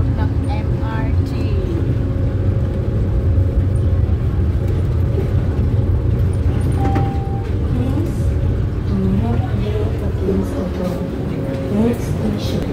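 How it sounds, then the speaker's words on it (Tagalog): A moving MRT train in Singapore rumbles steadily from inside the carriage, a constant loud low drone with faint clanks and background chatter from passengers. "Dito kami sa loob ng MRT."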